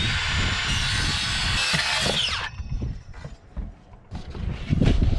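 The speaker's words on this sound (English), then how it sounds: "I think I'm going to cut this from the back side, because my blade is in good shape but not perfect" Power saw blade rips through a board for about two seconds with a loud, bright whine, then cuts off, leaving clunks and handling noises of wood being moved.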